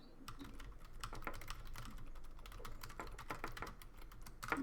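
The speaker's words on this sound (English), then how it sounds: "I was just typing this out, Oda." Rapid clicking of a computer keyboard as someone types, dense irregular keystrokes close by and fairly quiet, with no talking.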